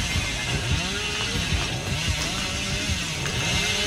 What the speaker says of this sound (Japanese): ただめっちゃチェーンソーが鳴り響いてる